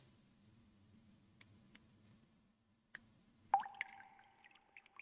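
Water dripping in the video game Unkindness: quiet, sparse drops over faint background hum, then a brighter, louder splash with a ringing liquid tone near the end.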